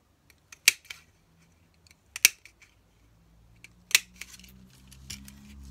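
Scissors cut craft paper for a handmade card at a crafting table, giving a few sharp, close snips spaced apart with light rustling and handling between them, quiet overall and with no talking.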